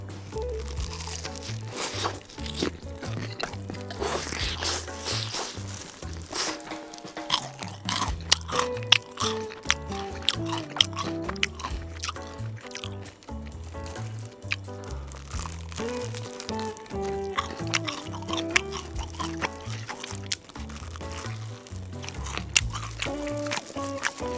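Crunchy bites and steady chewing of BHC pumpkin fried chicken, close and dense with repeated crackling crunches throughout, no talking.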